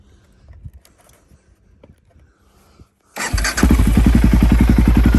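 A Can-Am DS650 ATV fitted with an HMF exhaust starts up after quiet handling noises, then settles into a loud, close, rapidly pulsing idle.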